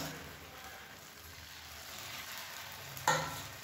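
Red poha ghee appam batter frying in hot oil, a soft continuous sizzle and crackle with a brief sharper clink near the end.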